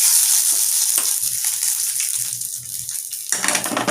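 Dried red chillies and curry leaves sautéing in hot oil for a rasam tempering, a steady close sizzle and crackle with light stirring scrapes, rising in a brief louder burst near the end.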